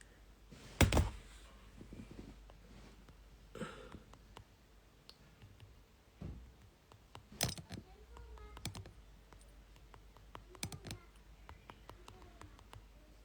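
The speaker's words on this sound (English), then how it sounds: "I'm just typing in the topic for today." Sparse keyboard typing with scattered clicks and a few heavier thunks, quiet and irregular, in a calm room with no one talking.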